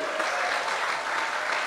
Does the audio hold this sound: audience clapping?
yes